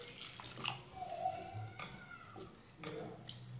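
Water poured from a vessel into a besan (gram flour) mixture in a pan while cooking Maharashtrian pithla, giving soft splashing and trickling at close range with no talk.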